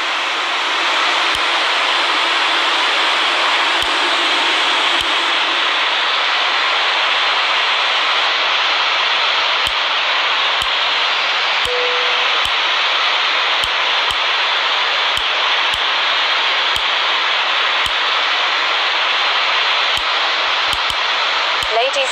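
Jet engines of an Airbus A330-300 in the RFS flight simulator game spool up into a steady, loud broadband roar, with faint clicks scattered throughout.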